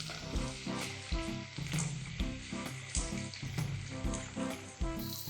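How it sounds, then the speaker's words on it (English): Crushed ginger and garlic sizzle and fry in a pan for a chutney, the crackle pulsing in uneven bursts as a spoon stirs through it, close and steady with no voices. "This is the time when I'm going to stir it and cook for another 1 minute."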